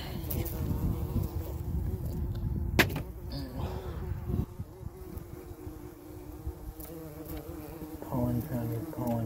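Bumblebees buzz steadily around a pollen patty, a close, continuous droning hum that wavers in pitch as they move, with one sharp knock partway through.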